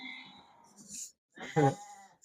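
A female lamb gives a short wavering bleat close by on a farm, preceded by a faint bleat and quiet rustling.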